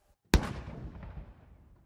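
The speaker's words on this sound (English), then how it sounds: "in the Australian capital, the firing of cannon marked the end of an era" Ceremonial cannon firing a salute in the Australian capital, a single sharp boom that rolls off into a fading echo over more than a second, loud and alone.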